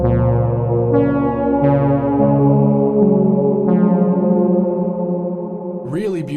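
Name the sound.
Choral reverb adding vowel sounds, Strymon BigSky plug-in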